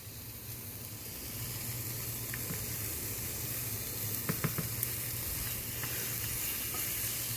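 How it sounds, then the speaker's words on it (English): Burger patties sizzling in a hot frying pan, a steady, close, loud hiss of frying with a few small clinks and pops, no talking. "I'm just gonna place them one at a time in the pan."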